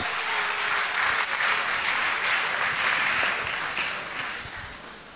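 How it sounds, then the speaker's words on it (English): An audience at a student summit gives a full round of applause, a dense, even burst of clapping that stays strong before easing off slightly at the close. "you have to give him a special round of applause"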